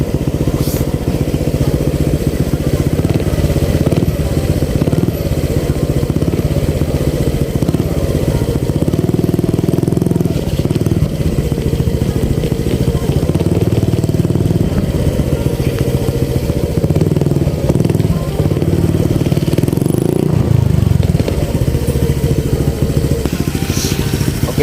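A motorcycle with an aftermarket Kaizo exhaust is revved on its center stand, running steadily and loudly throughout, a rough, throaty mechanical drone with slight rises in intensity, no voices over it.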